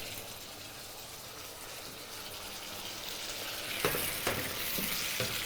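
Tofu in chilli sauce sizzles in a pan on an induction hob at high boost heat, a steady frying hiss that swells slightly, with a few sharp clinks and stirring knocks near the end.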